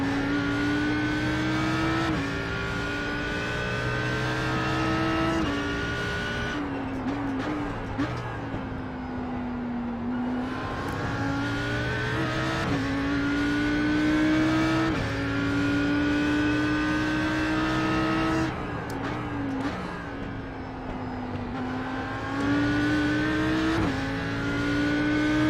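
An Audi R8 GT3 race car circling Bathurst in a racing video game, its engine droning steadily at high revs with repeated rising pitch sweeps as it accelerates through gears and brief dips when braking for corners, heard alone throughout.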